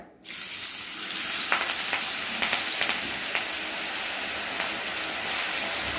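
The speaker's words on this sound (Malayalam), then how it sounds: "അടുപ്പിലൊരു പാത്രം വെച്ച് ഞാൻ മീൻ വറുത്തെടുക്കാൻ പോവുകയാണ്." Fish pieces dropped into hot oil in a pan burst into a loud, continuous sizzle and crackle, close up, with a few brief scraping clicks and no talking.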